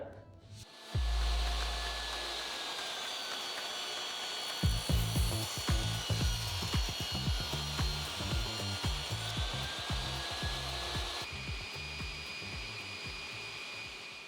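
A table saw running with a box joint sled passes through wood, starting with a motor whine, then a long run of rapid repeated cutting bursts, loud and close with no talking.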